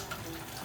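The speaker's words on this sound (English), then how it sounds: "I'll put some water in it," Water poured into a cooking pan, a brief soft steady splash at low volume.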